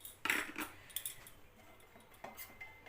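A spoon stirs flour into malpua batter in a bowl, making a few soft, quiet clinks and scrapes against the bowl.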